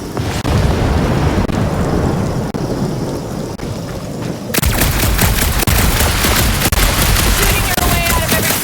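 Heavy gunfire and explosions from the video game Marvel's Guardians of the Galaxy, a loud continuous barrage that turns denser and harsher partway through, with no talk.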